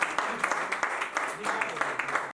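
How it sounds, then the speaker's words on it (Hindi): At an office opening celebration, an indoor audience claps steadily and fairly loudly for a woman being welcomed to the stage, then the applause cuts off abruptly. "मैम के लिए जोरदार तालियां।"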